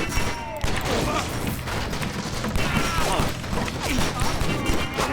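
Dense gunfire and explosions rattle through a John Woo's Stranglehold shootout, loud and continuous, with rapid shots and crashing impacts layered over a player's excited talk.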